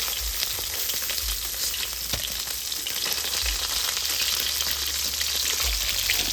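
Fish fries in hot oil in a pan, giving a steady, close, crackling sizzle with dense spitting pops and occasional low thumps, with no talking.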